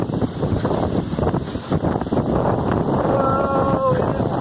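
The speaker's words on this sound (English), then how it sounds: "Whoa, it is so windy." Strong wind gusts buffet the microphone beneath a roof during heavy rain in Springfield, Illinois, with a constant loud rushing roar and a person's voice heard briefly over it.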